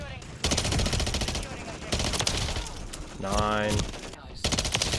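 Submachine gun fire in Modern Warfare III, dense rapid bursts of shots in several close, loud volleys separated by brief gaps, with a voice speaking briefly between them.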